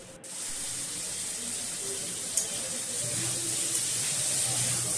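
Tomato, ginger, green chilli paste, cumin, turmeric, chilli powder, dried chillies, bay leaf and whole cumin frying together in a pan, a steady close hiss of sizzling oil with a single brief clatter partway through.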